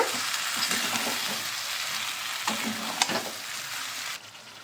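A spatula stirs a potol (pointed gourd) and shrimp curry with tomato ketchup in a pan, a steady sizzle broken by several scraping strokes, close and fairly loud, before the sound drops near the end.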